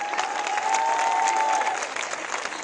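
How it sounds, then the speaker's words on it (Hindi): Crowd applause at a public gathering, steady dense clapping from many hands that holds for a few seconds before thinning slightly, with a faint tonal whine running beneath it. "इसका हम जश्न मनाएं तालियों के साथ।"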